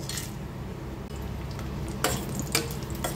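Bay leaves torn into pieces and whole garam masala fry in hot ghee in a pan for mutton pulao, a soft steady sizzle broken by two sharp clinks of a utensil stirring.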